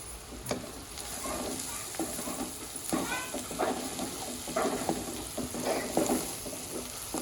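Eggs go into an onion masala frying in a pan, a continuous close sizzle broken by scraping stirs and light clinks of a spatula.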